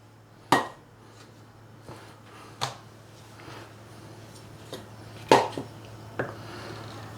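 A knife thinly slicing beef on a cutting board, a few sharp isolated knocks spaced irregularly over a low steady background hum, with fainter taps between them.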